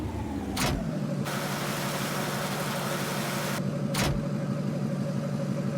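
A Duramax diesel pickup truck engine in Farming Simulator 19 idles with a steady, low rumbling drone that continues evenly throughout, with two brief sharp bursts of noise along the way.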